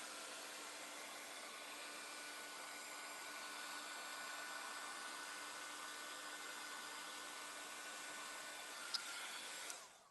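A dryer blows a steady, even whoosh of air over a wet alcohol ink background, running continuously and fairly quiet, with no talking.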